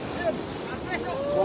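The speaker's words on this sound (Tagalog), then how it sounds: "talagang malakas yung hangin" Strong wind blows over a deep river at a cast net fishing spot, a broad rushing buffet against the microphone with faint whistling tones, steady and close.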